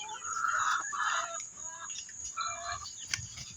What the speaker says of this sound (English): My little leghorn.